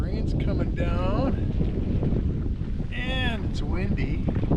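Heavy wind buffets the microphone on a paddling trip on the Yukon River in steady rain, a constant loud rush throughout, while a voice speaks over it.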